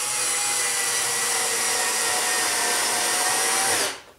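A Ryobi TEK4 cordless screwdriver drives a screw into a pre-drilled hole, giving one continuous close whirring run for several seconds before stopping abruptly.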